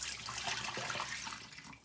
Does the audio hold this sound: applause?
no